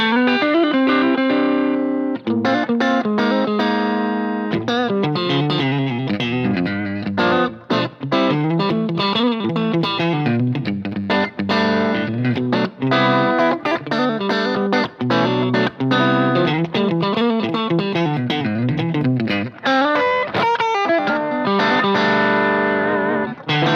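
An electric guitar runs through a Bose L1 Pro8 portable PA system in a live-style setting, giving loud, dense distorted playing with effects, sustained chords and busy riffs that continue without a break.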